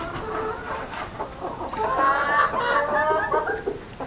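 Chickens in a coop, including roosters, cluck and call in a steady, busy stream, with a few louder drawn-out rooster calls rising midway, close and lively with no one talking.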